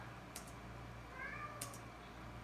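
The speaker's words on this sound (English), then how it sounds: "It's just the cat." A house cat meows twice, faint and somewhat distant, over a steady low hum in a quiet room during a dental lecture, with no talking.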